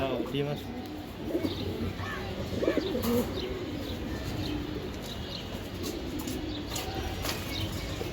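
Giribaj tumbler pigeons coo in low throaty bursts close by, with scattered chirps and a light flutter, while people talk over and around the birds.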